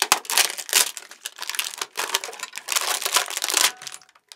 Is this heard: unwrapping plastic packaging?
yes